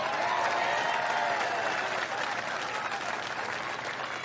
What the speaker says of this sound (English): Let's clap on that one